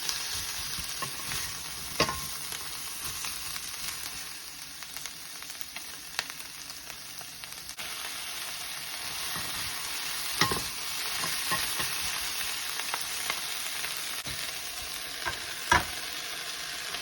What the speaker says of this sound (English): Pick up the onions, toss it around a bit